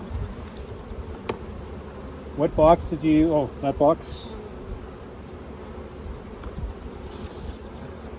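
Honeybees droning at an open hive full of brood frames, a low steady buzz underneath brief talking from a couple of people mid-clip.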